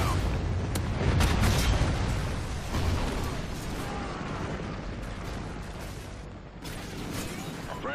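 Rocket strikes land in a military video game as booming explosions and rumbling impacts, with a heavy cluster of blasts early on and then continuing battlefield clatter and distant rumbles.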